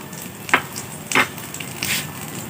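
Ghee sizzling in a pan of pumpkin laddu mixture while it is stirred, with a few short scraping bursts over a steady, fairly close frying hiss.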